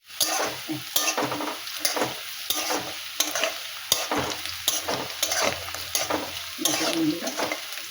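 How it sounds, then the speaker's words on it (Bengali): Onion fries in hot oil in a pan, with a lively sizzle broken up by repeated scraping strokes of a spatula stirring close by. Earlier, whole spices, chilli and bay leaf went into the oil. "পেঁয়াজটা দিয়ে দিলাম। এবার এটা ভালো করে আমি ভেজে নিই।"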